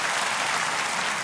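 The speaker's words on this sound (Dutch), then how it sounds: "Dames en heren, mag een applaus voor Butler Laurens." An audience at a children's dinosaur stage show applauds in a dense, steady wash of clapping that stays loud and even throughout.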